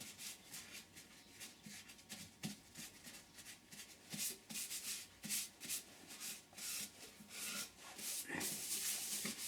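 Light hand sanding of a sycamore wing bowl with 400 grit abrasive to denib a sanding sealer coat, a soft irregular rubbing and rasping that comes in short bursts and swells louder toward the end.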